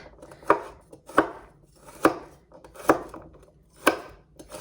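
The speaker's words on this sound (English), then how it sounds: "I am basically going to use an entire clove. So I'm just gonna cut that up." A knife chops a garlic clove on a cutting board in slow, evenly spaced strokes, six crisp thuds standing alone against near silence.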